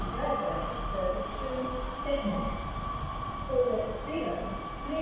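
An East Midlands Railway diesel train idles at Nottingham station, a Class 153 coupled to a Class 156, with a steady engine hum and a low rumble close by and occasional tones over it. Someone speaks briefly over the noise.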